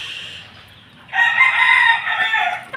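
A three-month-old white Kelso cockerel gives a single loud, close crow that rises sharply, holds, then trails off, after a quieter moment of faint clucking.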